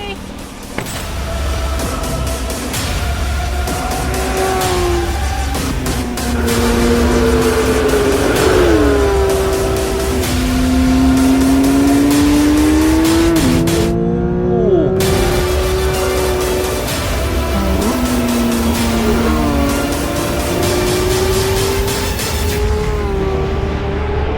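Porsche 911 GT3 sports car driving and accelerating, heard from the cabin as a loud, continuous engine note that repeatedly rises and falls through revs over about twenty seconds, with a brief dip partway through.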